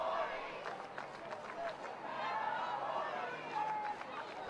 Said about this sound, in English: the student section is cheering for something